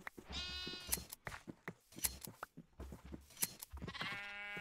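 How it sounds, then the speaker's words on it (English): Sheep in the game Minecraft bleating repeatedly, several short wavering bleats in quick succession, fairly quiet and close, with no talk over them. "Feeding the sheep."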